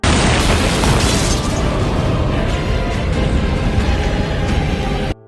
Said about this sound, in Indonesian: Detik-detik berikutnya ledakan besar pun terjadi.